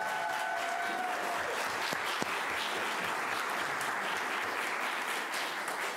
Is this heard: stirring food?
no